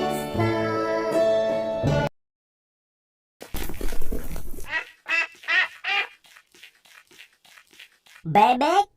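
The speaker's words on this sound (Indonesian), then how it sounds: "Bebek." A duck quacks in a series of short, rasping calls of varying loudness, nearby, following a sustained musical tone and a brief silence.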